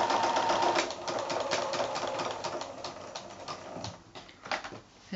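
A sewing machine stitches binding around the corner of a quilted placemat. It sounds as close, fast mechanical ticking that slows into a few separate clicks as the machine pivots and back-stitches, and no voices can be heard.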